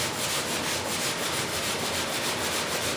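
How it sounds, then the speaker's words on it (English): Sandpaper rubs steadily over thin paint on a model jet, a continuous close scratchy sanding with rhythmic strokes and no voices. "But here's how thin this paint is on this, guys. It just sands right off"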